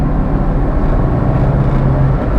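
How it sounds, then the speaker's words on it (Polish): A Renault Clio's small 1100 OHV engine at full throttle in third gear drones steadily at high revs, a continuous loud rumble with a low hum that holds and rises slightly throughout. "Teraz trochę przyspieszymy. Trzeci bieg. Gaz do dechy."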